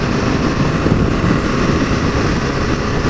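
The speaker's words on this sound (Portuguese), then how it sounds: "esse é o som do abafador. Olha como é que fica mais macia a moto." Honda CB1000 motorcycle fitted with an exhaust muffler (dB killer) while riding, a continuous broadband engine roar mixed with wind noise at steady level, no distinct revs and no speech.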